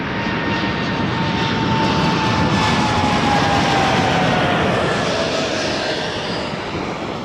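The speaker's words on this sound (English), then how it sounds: "787-9 Dreamliner, Air Canada 856." Air Canada Boeing 787-9 Dreamliner jet at Toronto Pearson, a loud sustained engine roar with a slowly falling whine as it passes close by, no talk.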